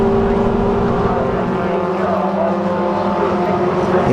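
Toyota MR2 race cars lapping Silverstone circuit in the MR2 Championship, a loud, steady engine drone filling the whole stretch with no break.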